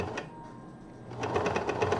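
A serger stitching colorblock knit fabric: a steady mechanical whir that starts quieter, then picks up into a louder, rapid rhythmic chatter for the second half, close by and without talk.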